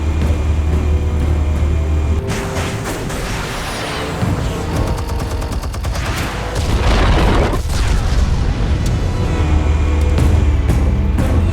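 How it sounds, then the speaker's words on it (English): Armed explosives detonate in Batman: The Telltale Series, a loud, sustained booming blast with crashing debris and rumbling low end that swells and rolls on for several seconds. "Explosives armed. Fire when ready."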